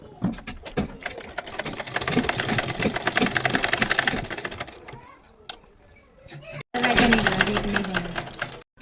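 A sewing machine stitches the neckline of a kurti without canvas, a fast continuous rattling run that pauses briefly near the end before starting again, fairly close and loud.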